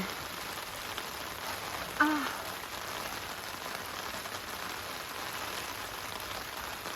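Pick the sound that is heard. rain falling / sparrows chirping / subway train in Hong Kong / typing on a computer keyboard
rain falling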